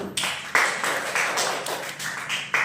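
A classroom group claps for the first group after its presentation, with sparse, uneven claps rising and falling over a few seconds and no talk.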